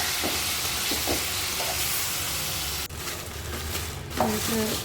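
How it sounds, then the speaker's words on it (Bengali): Spice masala with salt, turmeric and a little sugar sizzles softly in a pan while it is stirred, a steady hiss with a few scraping strokes of the spoon. "মশলাটা ভাজা ভাজা হয়ে যাওয়ার পর লবণ হলুদ একটু চিনি সব কিছু দিয়ে আর একবার নেড়ে চেড়ে দিয়ে"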